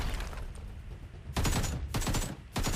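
Rapid AK rifle bursts in the shooter game Survive and Rise, loud close automatic fire in three separate volleys over a low background rumble.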